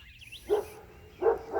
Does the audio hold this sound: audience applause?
no